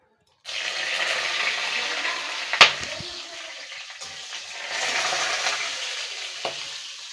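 Whole spices, dried red chilli and bay leaf hit hot oil for a Bengali village lau masoor dal, giving a steady loud sizzle with a sharp clatter partway through, close by and without speech.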